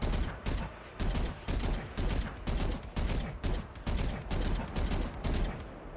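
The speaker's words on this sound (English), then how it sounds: "With the Vandal specifically, if you do 1, 2, and keep moving very fast while shooting, there's no punishment pretty much." The Vandal rifle in the game Valorant fires in rapid repeated bursts, loud and close, with short gaps between volleys over about six seconds.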